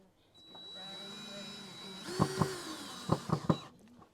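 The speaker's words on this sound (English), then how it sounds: "That's a variable speed drill and it has a star bit" A variable speed drill with a star bit drives a screw into wood while a compost bin is assembled: a steady motor whine runs for a few seconds, followed by several sharp knocks and clatters.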